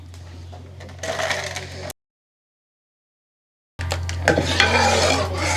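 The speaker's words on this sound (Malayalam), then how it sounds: "ഇതിലേക്ക് നമ്മൾ വറുത്ത് വെച്ച സാധനങ്ങൾ മൊത്തം ഇടുവാണേ" Scraping and rattling of food being tipped into a pot and stirred, with a sizzling hiss; the sound cuts out briefly midway, then resumes louder.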